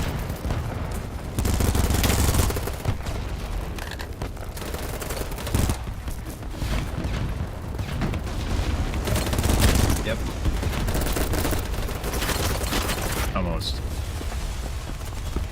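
Battlebit video game firefight with constant loud volleys of gunfire and automatic bursts layered over rumbling explosions, while a player talks throughout.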